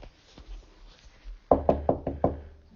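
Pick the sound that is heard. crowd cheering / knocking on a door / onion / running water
knocking on a door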